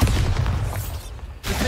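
A Bombarda blasting spell goes off in Hogwarts Legacy, a loud, close, rumbling explosion that roars for over a second, dips briefly, then swells again.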